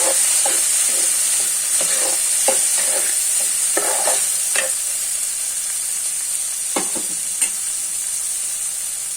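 Onions, green chillies and a tomato sizzle steadily in a hot pan, a constant bright hiss broken by scattered clinks and scrapes of stirring, close and without voices.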